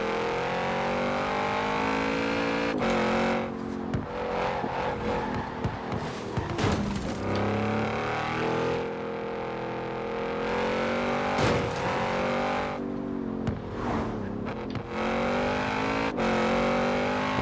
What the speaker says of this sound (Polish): O kurde, jak fajnie zrobili dźwięk tego samochodu w grze.